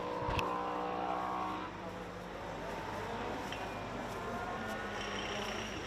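Racing motorcycles, modern MotoGP-era bikes up to 1000cc, roll out onto the circuit at the Adelaide Motorsport Festival, their engines a continuous mid-distance drone with a loud burst at the start and a few rising notes later.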